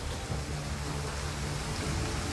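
Steady hiss of rain falling in the Total War: Pharaoh video game, a dense even wash with faint low rumbles underneath and no voices.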